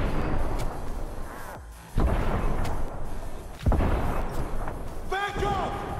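Gunfire in Cyberpunk 2077, heavy booming shots and blasts in bursts at close range, mixed with game effects and a player talking over them.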